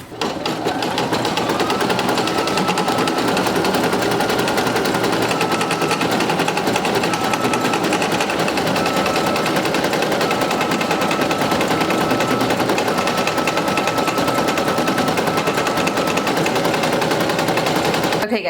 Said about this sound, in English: the machine's going to go ahead and stitch on an outline